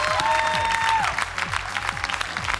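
Warm audience applause on a televised Armenian singing gala show, dense steady clapping from a crowd with a sustained musical tone fading early, continuing loud throughout.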